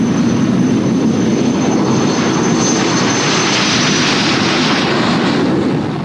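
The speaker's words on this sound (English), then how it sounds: "This version of the Canberra, with its extra-long nose to house radar, still turns heads today." English Electric Canberra jet bomber, a version with an extra-long radar nose, roaring steadily and loudly overhead, a broad continuous engine rush with a thin high whine that holds for several seconds and fades slightly at the end.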